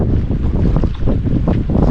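Strong cold wind sweeps through a forest, buffeting the microphone in loud, gusty rumbles that rise and fall continuously.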